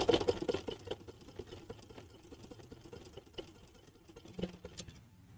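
A domestic sewing machine stitches piping onto a blouse, giving a quick rattling run of needle strokes that is busiest at the start and then thins to lighter mechanical ticking, fairly close and heard alone.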